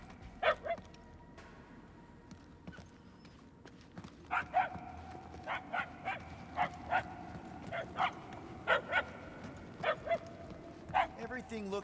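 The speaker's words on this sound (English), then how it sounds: "The barks are getting louder, at least." Dog barking in the Guardians of the Galaxy video game, a series of repeated sharp barks at steady intervals, moderately loud over a busy game ambience with some talk early on.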